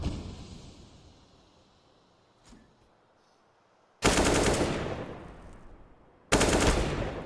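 Counter-Strike: Global Offensive gunfire during a professional esports match: after a quiet stretch, two loud, abrupt bursts of rapid automatic shots hit at close range, each fading away.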